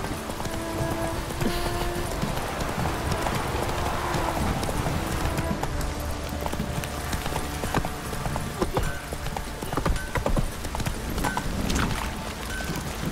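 Horse hooves clip-clop steadily in The Witcher 3 game as the mount trots along, a continuous rhythmic clatter with a brief whinny, set against rain and ambient game noise.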